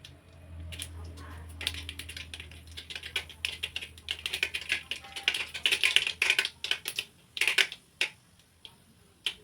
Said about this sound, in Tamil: எண்ணெய் ஊற்றி கடுகு போட்டுக்கோங்க. கடுகு பொரியட்டுன்னு நல்லெண்ணெய் யூஸ் பண்ணுங்கள்